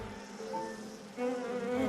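Honey bees drone around a beehive in a steady, dense buzz, close and continuous, swelling a little louder partway through, with no voices.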